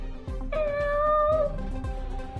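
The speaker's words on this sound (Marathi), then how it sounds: "मांजर" A house cat gives one drawn-out, rising and falling meow indoors. It sounds close and clear, with some faint room noise and no talking.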